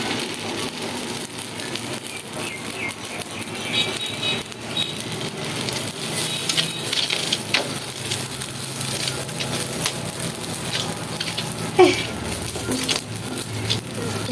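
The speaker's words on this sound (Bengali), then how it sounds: "এখন এটা আমি ভাজবো, যে তাওয়া দিয়ে দিছি" Batter made from taro leaves fries on a griddle pan, giving a steady soft sizzle with faint crackles throughout and a brief louder tap near the end.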